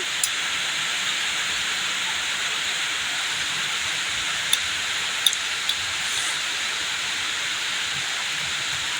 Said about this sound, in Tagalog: Pagpasensyahan nyo na at malakas yung ulan.